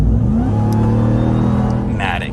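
A 2022 Ram TRX Ignition Edition pickup with a supercharged engine accelerates with a loud, close rising engine roar and a whining pitch climbing, then easing off, as a voice talks briefly near the end.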